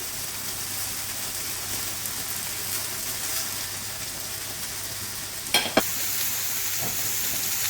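Hamburgers fry in butter in a pan, giving a steady broadband sizzle with a couple of brief sharper spatters near the end.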